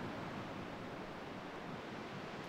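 Ocean waves at a bay, heard as a steady broadband wash of surf without breaks, fairly faint and distant, with no voices.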